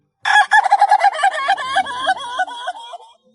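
Polish crested chickens on a hillside farm make a loud, close run of rapid clucking calls, a quick series of squawking notes that slows and trails off over a few seconds.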